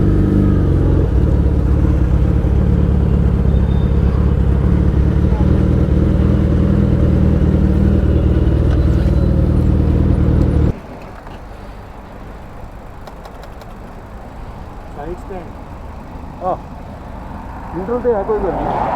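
A car engine idles steadily and loud for about ten seconds in neutral during a road trip from Delhi to Theog, then cuts to quieter road ambience with faint traffic and brief knocks.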